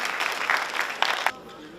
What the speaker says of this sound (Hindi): इनकी मेहनत के लिए तालियां होनी चाहिए